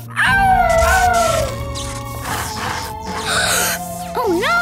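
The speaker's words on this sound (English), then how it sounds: "Keep howling, Rubble." A cartoon puppy howls loudly and up close, with long wavering wails that rise and fall in pitch and break into shorter yelps, with no talk.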